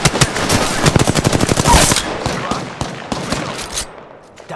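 Rapid automatic gunfire from a weapon in Apex Legends, loud and close: dense bursts of shots for about two seconds, then a few scattered shots fading out.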